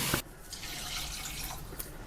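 Water pours from a tap or jug over chopped carrots and vegetables in a cooking pot for a vegan stew, a close, steady splashing rush with a brief start and no talking.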